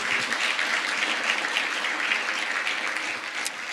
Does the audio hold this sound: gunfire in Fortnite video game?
no